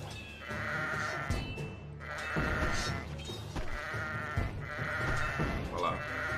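Sheep in the video game Kingdom Rush bleat loudly and repeatedly in a steady rhythm, several wavering cries over game music and sound effects.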